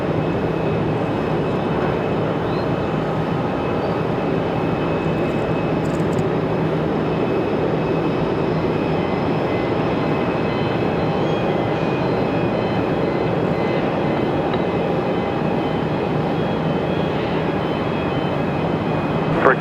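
A JetBlue Airbus A220-300 from JFK at Raleigh-Durham International Airport, a loud, continuous jet engine roar with a steady broadband rumble and faint tonal whine that holds constant throughout.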